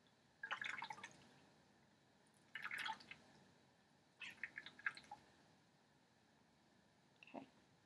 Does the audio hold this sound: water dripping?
yes